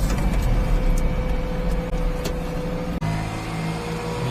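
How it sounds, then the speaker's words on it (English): A Mini with a supercharger pulls under acceleration. A steady engine drone carries a faint thin whine, and the tone shifts abruptly near the end as the gear changes. No one speaks. "Hear that supercharger whine."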